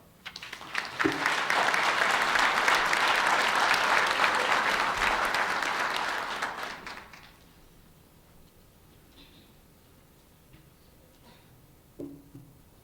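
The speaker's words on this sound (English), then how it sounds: "Please give a warm round of applause to Class 232's valedictorian, Officer Jared Kazemba." A hall full of people applauds at a police recruit graduation, loud and steady for about six seconds before fading out, followed by quiet room tone and a couple of stray claps.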